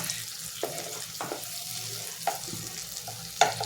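Spices fry in a pan with a gentle, continuous sizzle, punctuated by a few brief scraping stir strokes and a small clink near the end, close and without speech.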